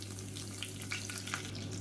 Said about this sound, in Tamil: இப்போ கடுகு எல்லாமே பொரிஞ்சிருச்சு.